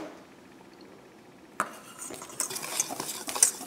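Dry ingredients for gluten-free banana waffle batter get mixed in a bowl, starting quiet and then turning into busy scraping and clinking of a utensil against the bowl, close and moderately loud with no talking.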